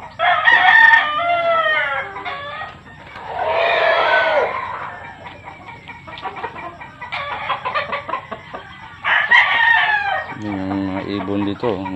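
Roosters crow repeatedly, several loud cock-a-doodle-doo calls near and far mixed with clucking fowl, with a voice speaking briefly in between.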